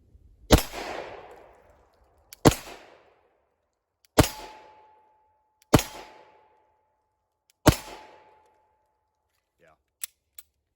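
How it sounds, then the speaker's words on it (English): Five sharp rifle shots fired at a target, a rifle fitted with a UTG OP3 micro red dot, loud and close, spaced about every one to two seconds with decaying echoes, then a couple of faint clicks. "So again, 5 more shots."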